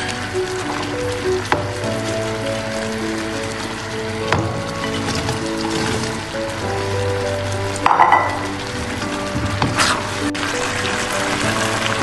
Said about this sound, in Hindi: और इसमें मैं चिकन को मिक्स कर दूँगी।